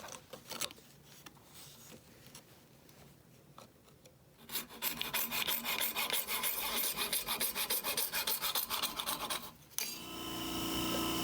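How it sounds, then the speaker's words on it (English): Steady rasping abrasion of sandpaper worked back and forth along the wooden sides of a custom guitar body to level them before binding, quieter scuffs at first, then loud continuous close strokes, with no talking. "Just a little bit of sanding to level the body sides in preparation for binding"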